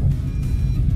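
A car's gearbox grinds and whirs as the driver tries to force reverse gear while the vehicle is still moving, a dense low mechanical drone lasting about a second.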